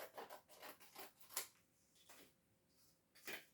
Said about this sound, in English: While I got the scissors, I'm going to cut 2 strips.